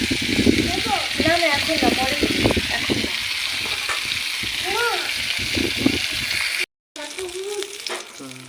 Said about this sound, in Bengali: এইভাবে 2-3 মিনিটের মতো পটলগুলোকে ভেজে নেব।